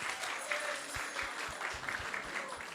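A crowd applauds steadily throughout at a temple evening gathering, with many hands clapping at a moderate distance in a large room.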